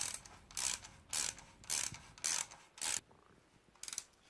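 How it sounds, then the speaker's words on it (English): Small ratchet tightening 10mm bolts on an SR20 engine's rocker arm stoppers, five quick close bursts of clicking in a regular rhythm, a pause, then one more short burst. "I'm using a smaller ratchet because these don't require a huge amount of force"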